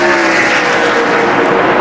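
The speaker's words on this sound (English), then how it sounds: "Elliott challenges Martin for the lead" Stock cars roar past at full throttle during the 2002 NASCAR Southern 500, a loud, dense engine drone with a brief rising whine as a car passes near, and no voices over it.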